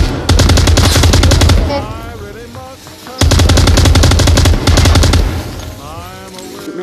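Rapid automatic gunfire rattles in a backrooms video game, two loud sustained bursts of dense shots separated by a short pause, with shouting voices heard between and after the volleys.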